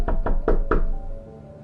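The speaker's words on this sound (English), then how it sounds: "the knock at the bedroom window" Four sharp knocks rap on a bedroom window at night during a snowstorm, evenly spaced and close, each followed by a short ringing decay in a quiet room.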